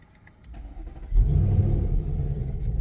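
A car engine cranks and catches after a throttle body install, quickly rising from a quiet start into a loud, steady low idle that holds, close by.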